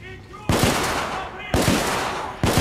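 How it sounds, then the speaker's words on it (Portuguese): Gunfire from a gun in the video game The Order: 1886: three loud, sharp shots spaced about a second apart, each followed by a long, noisy ringing tail. "Vou meter bala."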